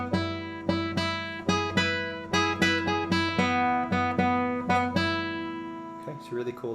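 Classical guitar imitates distant horns, plucked with the nails of the first and second fingers close to the bridge. Open strings ring under fretted notes in a slow, clearly plucked sequence of chords and single notes.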